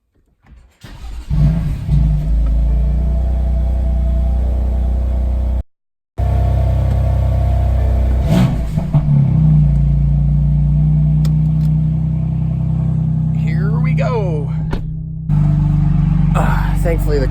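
Car engine started in the early morning with its exhaust valves opened, giving a steady, loud low rumble that runs through most of the stretch, with a brief cut and a revving swell near the end; talk drifts over it.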